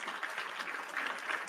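A crowd applauding, a dense steady patter of many hands clapping at a distance, fairly faint and continuous throughout.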